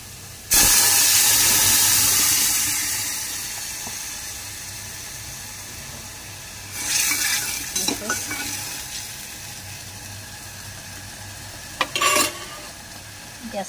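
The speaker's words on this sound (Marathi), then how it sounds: "आता ह्याच्यात आपण टोमॅटो आणि मिरच्या पिसलेलं हे टाकायचं." Ground tomato and chili paste hits a hot pan for a chutney, bursting into a loud sudden sizzle that slowly fades, followed later by bursts of stirring and renewed crackling.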